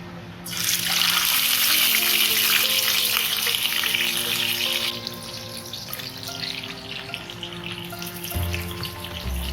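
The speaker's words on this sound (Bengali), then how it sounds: "তেল খুব গরম হয়ে গেছে, এখন আমি আস্তে আস্তে মাছগুলি ছেড়ে দিচ্ছি।" Chital fish pieces frying in very hot mustard oil, a loud, steady sizzle that bursts in as the fish goes into the pan and continues strong, softening slightly midway, with a low clatter near the end.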